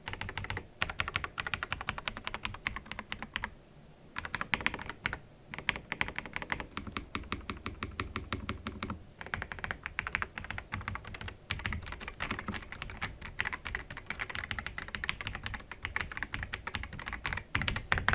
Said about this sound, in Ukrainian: хороша, якісна, цікава клавіатура з гаскет маунтом, з цікавим звуком, з великою кількістю шумків